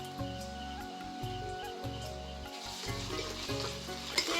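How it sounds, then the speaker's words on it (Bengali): Ginger garlic paste hits onions already fried reddish in a hot pan, giving a strong continuous sizzle and crackle with a low steady hum beneath it. "এবার আমি আদা রসুনের পেস্ট দিয়ে দেব"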